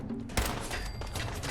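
One sharp gunshot from a weapon in Fallout 4 cracks out near the start, with a second softer report after it, set against steady dense game ambience.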